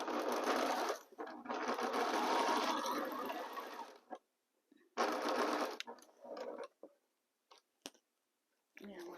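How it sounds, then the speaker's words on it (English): Sewing machine stitching a quarter-inch seam through pieced fabric blocks, running in steady whirring bursts that stop and restart in shorter runs, fairly close. "So let's start sewing a 1/4 inch."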